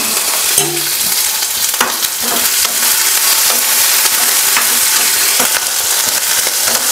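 Mustard seeds, garlic, curry leaves and onion tempering in hot oil: loud, continuous sizzling and crackling with sharp pops and brief stirring scrapes, up close with no talking.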